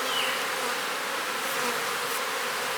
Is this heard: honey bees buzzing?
yes